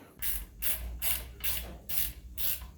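A ratchet tightens bolts on a 235 inline six engine, cranked in six quick rhythmic bursts of close, crisp clicking with short pauses between strokes.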